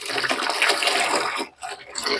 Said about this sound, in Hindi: तो मैं पानी इसमें मिला देता हूँ